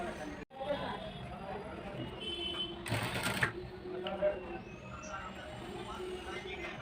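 A sewing machine runs a steady stitch along the one-inch folded hem of palazzo pants, whirring under continuous talk with a brief louder clatter midway.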